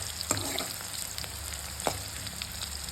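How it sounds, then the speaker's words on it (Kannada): Onions sizzle in a pan for a quick chicken fry, a steady crackling hiss broken by a couple of sharp stirring clicks, close and unaccompanied by voices. "ಫ್ರೈ ಆಗ್ತಾಯಿದೆ. ಸ್ವಲ್ಪ ಲೈಟಾಗಿ ಬ್ರೌನ್ ಬರಲಿ"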